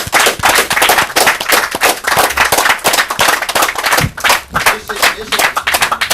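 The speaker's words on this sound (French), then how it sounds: "Et on applaudit Jet" An audience at a game show claps for the winner, sharp scattered hand claps in a dense, uneven patter, with a voice talking over the clapping throughout.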